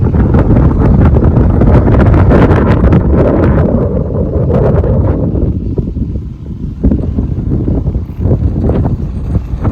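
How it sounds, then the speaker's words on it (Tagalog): Strong wind on the Mariano Marcos Bridge buffets the microphone with a loud, low roar, gusting heavily at first and easing somewhat toward the end. "Mahangin."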